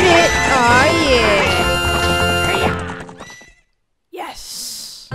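A horse neighs loudly in Zelda: Ocarina of Time, a long whinny with a shaky falling pitch over game music, then a brief silence and a short snort or breath.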